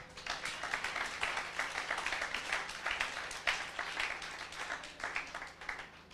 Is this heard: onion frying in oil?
no